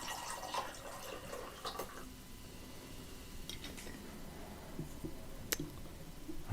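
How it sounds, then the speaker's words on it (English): Wild Turkey honey bourbon pours into a glass at close range, faint trickling and small clinks with a few sharp taps, quiet and steady under a soft room background. "I'm just gonna give it a little pour there."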